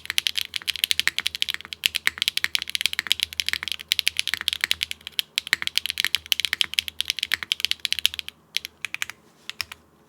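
Fast, continuous typing on a computer keyboard with a split backspace, dense clacking keystrokes close up and fairly loud throughout, thinning out briefly near the end.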